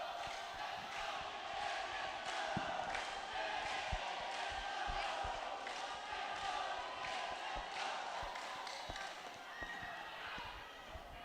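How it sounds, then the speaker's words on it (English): A crowd roars continuously at a women's basketball game between Lingayen and Labrador, Western Conference, with a broadband cheering wash and sharp transient thuds throughout while people talk over it. "The crowds here is just amazing."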